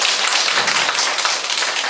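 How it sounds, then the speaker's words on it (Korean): An audience at a lecture claps in a dense, steady burst of applause that stays loud throughout the short stretch. "박수 한번 해주세요."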